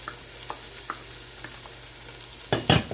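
Onions and carrots sweat in a pan for Bolognese, a faint soft sizzle with sparse small ticks, ending in a louder burst of clattering and stirring near the close.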